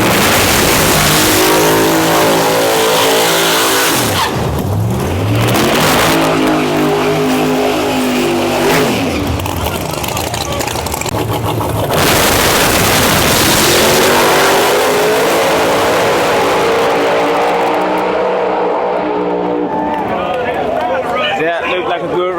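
Drag race cars roar loudly through repeated rising and falling acceleration sweeps, engines screaming close by over a constant crowd and track din, with a commentator's voice running over much of it.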